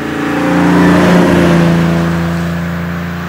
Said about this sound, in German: Also er fährt auch diese starke Steigung hier im 4. Gang super hoch